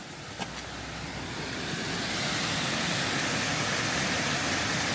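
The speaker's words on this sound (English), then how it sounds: "Nice little waterfall here." Small waterfall on the River Esk in the Esk Valley: a steady, broad rushing of falling water that swells a little and holds even, alone, with no talk.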